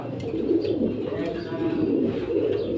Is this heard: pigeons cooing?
yes